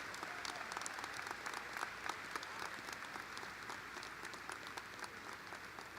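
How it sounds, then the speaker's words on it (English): A high school graduation crowd claps in honour of scholarship recipients and their parents, a broad, continuous wall of applause from a large audience, steady and fairly loud with scattered sharper claps throughout. "A round of applause for our 2025 Bright Flight recipients and their parents."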